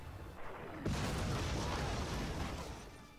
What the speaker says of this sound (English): we're gonna fire on the lead ship